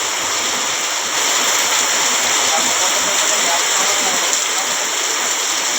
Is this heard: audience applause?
no